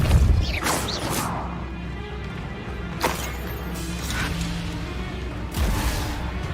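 Depulso repelling spell cast in the Hogwarts Legacy video game, loud whooshing blasts and crashing impacts in a few bursts amid combat noise.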